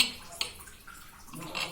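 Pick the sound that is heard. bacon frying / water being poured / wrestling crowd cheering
water being poured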